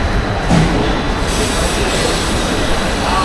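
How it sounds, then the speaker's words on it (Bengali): A passenger train on the Kolkata to Guwahati route pulling away, with loud, continuous rumbling and a faint wheel squeal, heard close from on board without speech. "বারো মিনিট লেটে ট্রেনটা ছাড়লো।"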